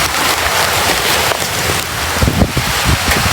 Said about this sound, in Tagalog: So yun guys, medyo umulan.